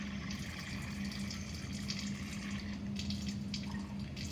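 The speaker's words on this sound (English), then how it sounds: "we're going to add some water to this." Water pours steadily into a chemistry lab sample to dissolve it, a continuous faint splashing trickle with no pause and no voices.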